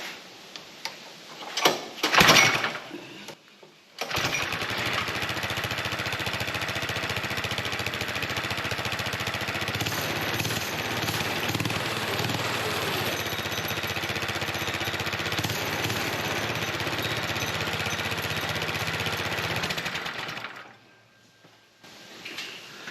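A vintage go-kart engine fitted with a cheap replacement carburetor runs steadily at a fast, rattling idle for about sixteen seconds, loud and close, after a brief sputtering start and before cutting off.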